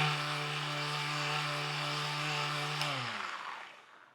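A Festool sander runs steadily with a loud, even whine and strong hum for about three seconds, then spins down and cuts off, leaving a brief fading tail.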